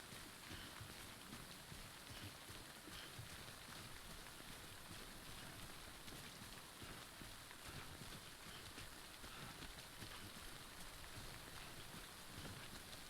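Steady, dense rain falls throughout the video game Death Stranding's Timefall downpour, a constant hiss of drops without pause.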